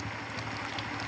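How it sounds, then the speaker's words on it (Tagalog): Heavy rain pours steadily at an outdoor fish-selling spot, a dense, even wash of drumming on surfaces with no pauses. "Ang lakas pa ng ulan, mabasa tayo dito."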